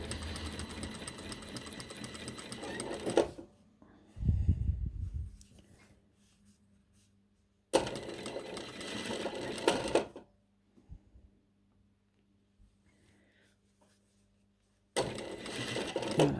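Sewing machine stitching a jacket lining, with three bursts of rapid buzzing motor-driven stitching separated by quiet pauses and some brief handling noise between them.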